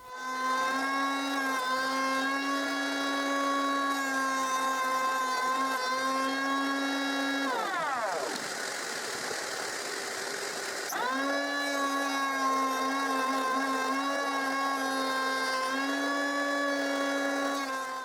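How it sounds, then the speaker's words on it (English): A homemade thickness planer jointing the edges of wood strips runs as a steady, loud motor whine for most of the stretch. Near the middle the pitch sags and turns rougher under the cutting load, then recovers. No one speaks. "I use my homemade thickness planer to joint the edges."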